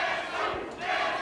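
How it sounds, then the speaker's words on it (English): A wrestling crowd at a Mid South Wrestling match chants together, a loud, dense roar of many voices that fills the whole moment without a break. "The crowd taking up the chant, Teddy Sue"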